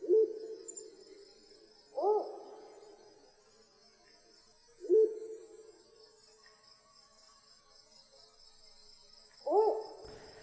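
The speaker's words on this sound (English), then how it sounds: "it does sound a bit like a spotted owl" Spotted owl hooting: four separate low, hollow hoots spaced a few seconds apart, fairly faint, over a steady high insect buzz.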